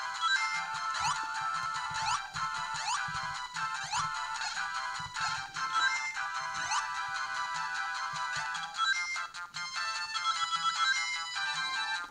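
Game music and sound effects from Sonic the Hedgehog running on Game Boy Advance hardware: bright chiptune melody with repeating quick effect sweeps, steady and clean with no talk.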